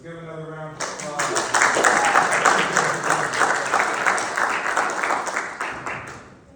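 A classroom audience breaks into a second round of applause for a student speaker, with brief talk at the start before dense, sustained clapping fills the room and continues steadily to the end.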